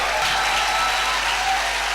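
A congregation clapping in worship, a steady, even roar of many hands held at moderate loudness for the whole short stretch, with no voices over it.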